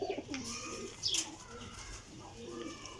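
Pigeons in a loft coo softly and repeatedly, low rolling calls that sit close to the recorder, with a brief higher chirp and faint wing or handling sounds over a steady background hiss.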